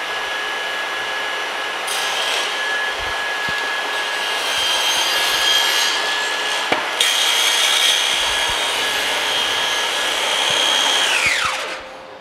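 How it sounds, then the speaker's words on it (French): A Festool CS 50 circular saw whines steadily for several seconds as it cuts through wood, pitch holding constant before spinning down at the end. "Je vais démarrer la scie"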